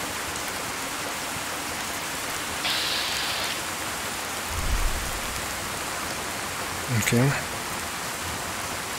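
Night rain in Fallout 4 VR makes a steady, even hiss throughout, with a couple of brief spoken words and a few soft thumps breaking in over it.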